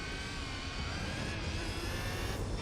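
A race car engine in Gran Turismo 4 during the Le Mans endurance race, a steady high whirring drone at moderate level with slight pitch shifts and no talking.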